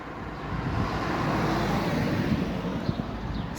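Cars stream through a town centre on a Sunday midday, a continuous close wash of road and tyre noise with some wind buffeting and no distinct pauses.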